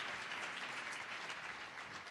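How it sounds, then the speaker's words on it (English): Audience applause at an auction breaks out steadily, a dense wash of clapping hands heard at moderate volume with no voices on top. "Give him a nice round of applause."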